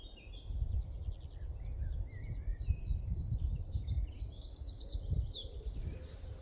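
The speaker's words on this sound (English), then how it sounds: "The bird's just gone in front of me." A small bird with a short stubby tail chirps in quick, high twittering runs near a hammock camp in cold morning air, fairly faint over a steady low rumble of wind and background noise.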